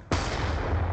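A concussion grenade going off in a team deathmatch shooter: one sudden loud blast, followed by a sustained rumbling roar that stays heavy and close for the rest of the second.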